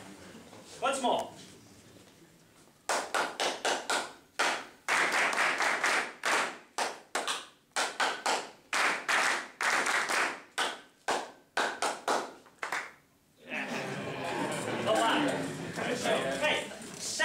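A men's choir workshop group claps short rhythms back in unison, a run of sharp, evenly spaced bursts of hand claps with brief gaps between them. Voices talk at the start, and a louder crowd murmur rises near the end.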